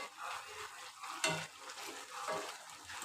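Snake gourd bhaji with spices is stirred in a frying pan, with soft sizzling and a scraping spoon sweeping through the food, close and moderately quiet with no talking.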